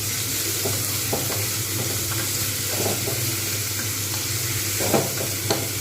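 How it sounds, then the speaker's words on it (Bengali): Sweet potatoes frying with poppy seeds in a pan and being stirred: a loud, steady sizzle throughout, broken by soft scraping and stirring strokes, with no talking. "আমি এইভাবে বেশ কিছুক্ষণ নাড়তে থাকব"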